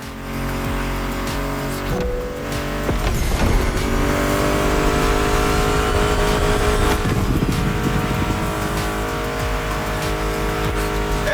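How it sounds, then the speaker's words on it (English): Muscle car engines rev and roar in The Crew Motorfest racing game, a loud continuous drone with rising revs and some tire squeal, layered with game music throughout. "Meshes well with the sound of the engines"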